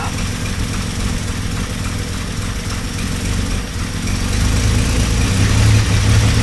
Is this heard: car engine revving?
yes